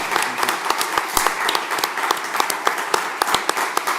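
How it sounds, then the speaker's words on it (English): Audience applause at a talk with Tom Fletcher, a brief burst of scattered, moderately sized clapping that stays fairly loud and irregular throughout. "give him a round of applause"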